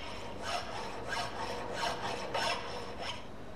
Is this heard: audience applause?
no